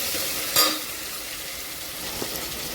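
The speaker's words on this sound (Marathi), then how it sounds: "दोन टमाटे छान बारीक कापून याला पण छान परतून घ्यायचं आहे" Finely chopped tomatoes sautéing in a pan for tomato masala khichdi, a steady close hiss of sizzling with a brief clink of a spoon against the pan.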